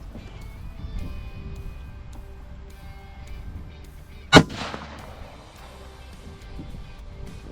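One loud, sharp rifle shot cracks out toward a target during a Michigan youth deer season outing, standing clearly above a quiet outdoor background with faint murmuring.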